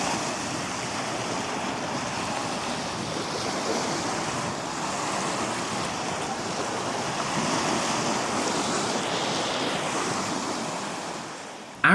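Waves wash onto the sandy shore of Arenal de Sa Rapita on the south coast of Mallorca, a broad steady surf roar mixed with wind noise that swells gently midway.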